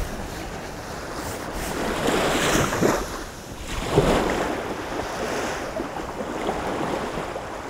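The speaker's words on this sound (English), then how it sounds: "You can see the waves." Ocean surf rolls onto a shore in a steady wash, with swelling crests around the middle and a gusty, windy hiss over the water and no voices.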